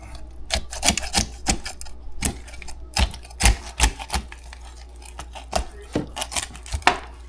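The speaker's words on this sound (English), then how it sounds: "I like to cut this side of the backbone out first because I can hold onto the bird" A raw chicken's backbone is cut out for spatchcocking, making a quick series of sharp, crunchy snips and cracks close by in an uneven rhythm, without speech.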